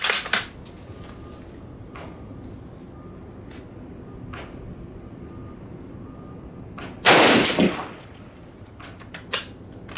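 One loud, sharp crack from a 30-06 rifle firing Winchester WWII Victory Series ammunition over a chronograph comes after a few quieter clicks and knocks, then decays quickly, with a faint later thump.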